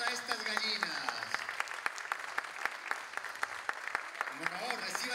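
Circus crowd applauding a performing chicken act at a Peruvian show, steady clapping with sharp individual claps throughout, music or a voice partly audible under the clapping.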